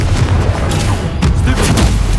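Confringo spell explosions in the Hogwarts Legacy video game, a dense run of loud booming blasts with heavy low rumble, packed close together and continuous through the short moment.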